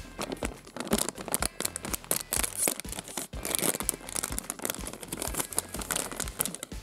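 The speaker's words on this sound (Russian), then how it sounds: "Теперь давайте откроем пакетик Барби." A Barbie-branded plastic packet of candy and bracelets is torn open and handled, making dense, close crinkling and crackling with sharp tearing snaps throughout.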